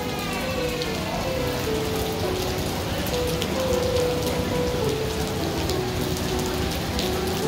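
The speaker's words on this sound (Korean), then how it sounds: "갑자기 비가 오네." Sudden rain pours down steadily outside a large shopping mall, a dense, even hiss of drops hitting surfaces. A faint tone rises and falls underneath, and there is no speech.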